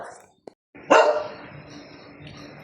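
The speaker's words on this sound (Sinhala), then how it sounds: "ඇයි බුරන්නේ? ඔයාලා බිරුවට අපි බය නැහැ." A single sharp dog bark rings out nearby, followed by a fading tail and quiet background; a faint click precedes it.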